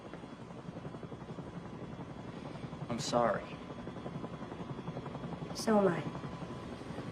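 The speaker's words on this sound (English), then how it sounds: "your chopper's ready" A helicopter's rotor thrum runs steadily underneath while two people exchange a few quiet words, with two louder swells briefly rising over the drone.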